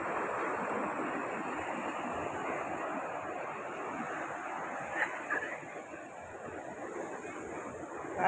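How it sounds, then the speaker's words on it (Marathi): Quiet, steady wash of sea waves rolling onto Arambol beach in Goa, heard from a distance as a constant soft roar with light wind noise and a small bump of louder surf near the end. "समुद्र एवढा मस्त नजारा आहे, असं सुंदर असं लाटा दिसतात"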